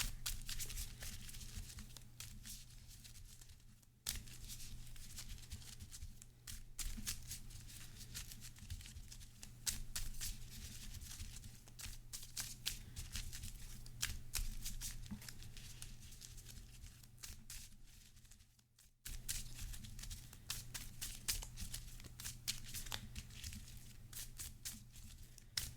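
Marvel Champions card game cards being shuffled at a tabletop, a soft continuous papery riffling and rustling with brief pauses, faint and close over a low steady hum, with no talk.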